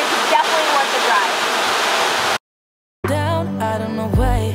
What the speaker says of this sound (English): we definitely made it to the waterfall. Look at so loud.